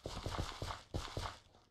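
Horse hooves clip-clop in Minecraft, a quick run of crisp close hoof taps falling in two short rhythmic groups.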